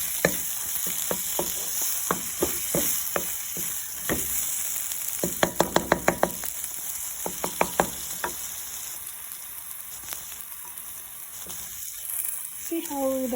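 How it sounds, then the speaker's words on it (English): Spices sauté in hot oil in a pan, a steady close sizzle and fry broken by sharp repeated clicks and taps of a utensil stirring against the pan, with a brief voice near the end. "So I'll saute like, just a minute more to get the spices"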